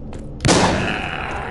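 Bandits firing in The Walking Zombie 2, a sudden loud gunshot blast after a brief fainter pop, followed by a ringing decay that lingers for about a second.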